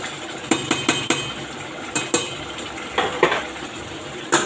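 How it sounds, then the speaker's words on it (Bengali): Rohu fish head being sautéed in a pot for a mashkalai dal on a rainy day, with repeated sharp metal spatula scrapes and clinks against the pot over a steady low frying hiss, close and loud. "ভালো করে কষায় নেব মাছটা"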